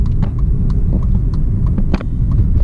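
A modified car drives past, heard from inside a manual 1999 BMW 323i: a loud, continuous low engine rumble with rough, pulsing exhaust bursts close by.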